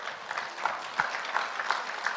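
Scattered applause from a congregation at a church fasting prayer rally, a diffuse wash of clapping with a few sharper claps standing out, moderately distant and steady across the moment.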